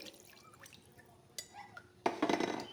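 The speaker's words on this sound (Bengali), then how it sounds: "সেই পাত্র মেপেই আমি জল দিয়ে দিচ্ছি।" Water poured into a pot of rice for egg pulao: a few faint kitchen clinks, then a sudden loud, close splashing pour that runs for the final moments.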